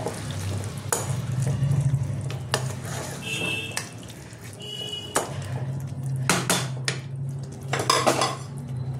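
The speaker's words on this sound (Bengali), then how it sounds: "একটু নাড়বো ভালো করে।" A spoon scrapes and knocks against a pan while chicken is stirred through butter chicken masala, with repeated sharp clinks at an uneven pace over a low sizzling hum.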